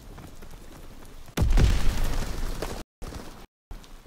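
A grenade explodes in the World War II shooter Call of Duty: WWII with a sudden loud, deep boom and rumbling tail after a short stretch of quieter battlefield ambience, then brief cut-outs of silence.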